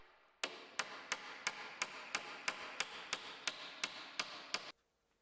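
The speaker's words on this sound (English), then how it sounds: "the nails are driven into the timber" A hammer drives nails into a timber stud wall in a dovetailed pattern, about a dozen sharp, evenly spaced strikes ringing close and clear, then stopping abruptly.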